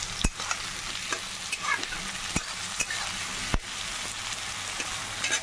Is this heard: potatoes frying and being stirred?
yes